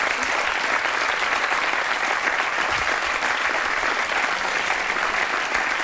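A French television talk-show studio audience applauding steadily and loudly throughout, a dense, continuous wash of clapping with no voices over it.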